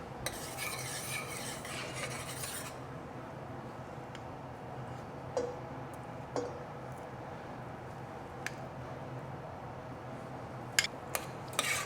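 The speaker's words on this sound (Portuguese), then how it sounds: "Então nós continuamos amassando ele até ele ficar bem homogêneo." Cooked, crushed cassava is mashed and stirred with butter, giving a soft continuous scraping with occasional faint clinks of a utensil against the pot.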